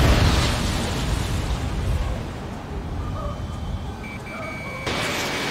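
Missile striking an aircraft in the jet combat game Ace Combat 7, heard as a loud, broad explosion rumble that slowly fades, with faint beeping lock-on tones later.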